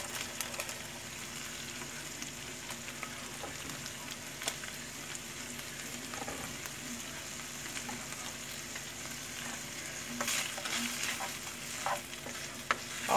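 Onions frying in a pot of grits alongside bacon and ham, giving a steady sizzle throughout with scattered stirring scrapes and clicks, no voices.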